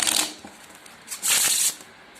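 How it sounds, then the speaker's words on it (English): Two bursts of riffling card shuffles, a short one at the start and a louder, longer one after a pause, close and crisp. "you let them shuffle the deck"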